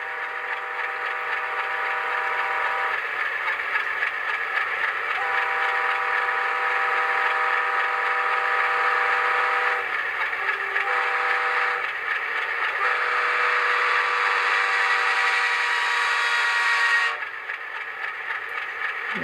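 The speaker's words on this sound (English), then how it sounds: "F5 Doppler horn, so if you're at a fixed point and the locomotive's passing you," A Doppler horn effect from a LokSound decoder in a Rapido HO scale RS18u diesel locomotive model: a loud, sustained multi-tone horn blast held for most of the stretch, with brief breaks and pitch shifts before cutting off near the end.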